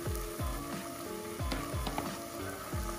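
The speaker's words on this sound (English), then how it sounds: "And we basically saute these until we get some color." Onions and garlic sauté in hot coconut oil for pinakbet, giving a steady close sizzle with repeated scraping and stirring strokes about every half second, no talking.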